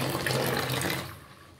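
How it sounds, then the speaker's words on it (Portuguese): Water runs over a bird's feeding dish as it is rinsed, a loud, hissing splash of a running tap that quickly fades away. "eu só passo uma água mesmo pra tirar o que eles comeram"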